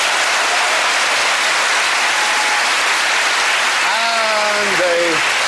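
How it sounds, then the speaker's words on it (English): Studio audience at a comedy panel show breaking into loud, sustained applause, dense clapping throughout, with a voice coming in over it near the end. "So give a big hand for Sue Perkins."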